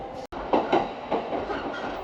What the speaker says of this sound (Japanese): この電車は湘南新宿ライン横須賀線直通逗子行きです。